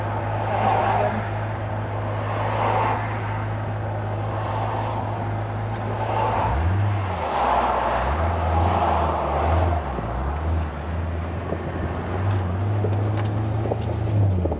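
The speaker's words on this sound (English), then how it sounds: "it's idling really smooth" A Pontiac GTO engine idles with a steady, smooth low rumble, close and loud, with the pitch wavering briefly partway through; people talk faintly in the background.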